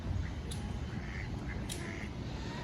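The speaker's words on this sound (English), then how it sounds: "Pelicans and ducks" Ducks quacking at a lake in a zoo safari park, a few faint calls over steady outdoor background noise.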